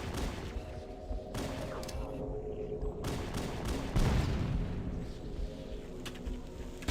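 Grenades go off in Halo: Combat Evolved, several sharp explosive blasts and bursts of gunfire scattered across a noisy battle, with a heavier boom near the middle.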